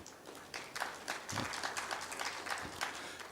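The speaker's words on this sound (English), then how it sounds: "they deserve a round of applause, ladies and gentlemen" Audience at a general assembly of a standards body claps in a moderate, continuous round of applause, a mid-sized crowd heard from a distance with individual claps overlapping.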